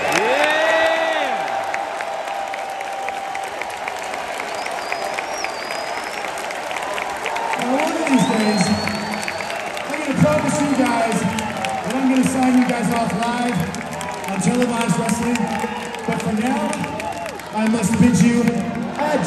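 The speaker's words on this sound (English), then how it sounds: "give a round of applause for these guys" A large arena crowd at an AEW Dynamite wrestling show, after the TV cameras stop, applauds and cheers for the wrestlers in sustained, loud waves, with shouting voices mixed through it.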